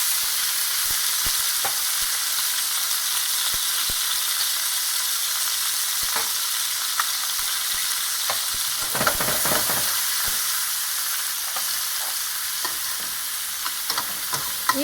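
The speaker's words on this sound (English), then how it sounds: "Even the sound changes because now you added more things in it, so the frying goes down a little bit" Steady bright sizzle of onions frying in a pan, with occasional scraping and stirring clicks, close up and continuous with no talking.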